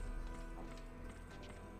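Horse hooves clip-clopping at a run in the Western-themed PS2 video game Gun, a steady, fairly quiet galloping rhythm under a constant low rumble of game background sound.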